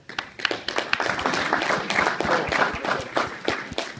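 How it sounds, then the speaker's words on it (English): A group at a team training session gives a round of applause, a brisk, busy stretch of many overlapping claps, close and fairly loud, with some uneven sharper hits. "can we give these guys a big round of applause?"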